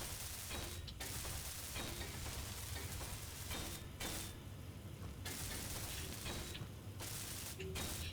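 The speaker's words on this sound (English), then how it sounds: "I'm gonna weld it up for now" Welding in the Space Engineers video game, a continuous dense mechanical crackle and hiss that runs steadily throughout with short gaps, loud and close with no talk.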